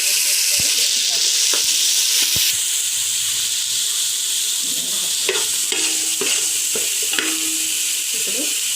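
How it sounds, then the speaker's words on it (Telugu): Ginger garlic paste fries in a pan with a strong, steady sizzle close by, while a utensil stirs and scrapes against the pan at irregular intervals. "ఒక 3 స్పూన్స్ అల్లం వెల్లుల్లి పేస్ట్ వేసుకొని వేయించాలి"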